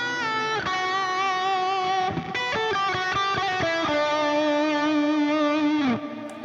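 An electric guitar played through a Tonex pedal and HX Stomp with delay and reverb gives loud sustained chords that shift a few times, each ringing into long echoing tails before a brief fade at the end.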